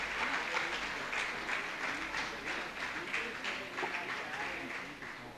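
Applause from an audience at a medical college of naturopathy and yogic sciences function, a steady wash of clapping lasting throughout at moderate loudness, with a murmur of voices mixed in.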